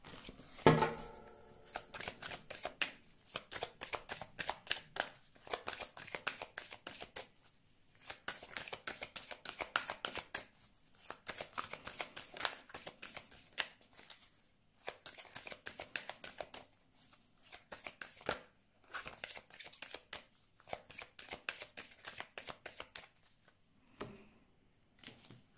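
Tarot cards being shuffled for a reading, a steady run of crisp riffling bursts and flicks separated by brief pauses, close and fairly quiet, with no talking.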